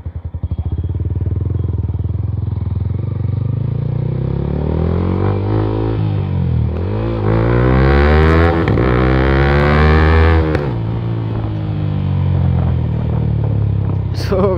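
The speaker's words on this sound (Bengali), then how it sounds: "সো গাইস ব্যাক ফায়ার কি মজা মারতেছে" A modified Monster motorcycle running low on fuel idles and revs, its engine note rising and falling, with a few sharp backfire pops near the end. A voice may be faintly present.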